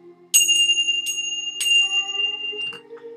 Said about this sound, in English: And now we ring our little bells, our Tibetan bells, calling on the Spirit of God.